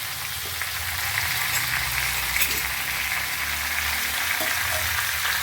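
Potatoes, chopped onion and tomato fry together in a pan for aloo dum, giving a steady, loud, close sizzle with faint stirring scrapes and no voices.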